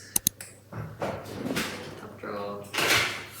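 A top kitchen drawer slides open with a soft rolling rumble and clatter of contents, following a few sharp clicks, while a person talks nearby.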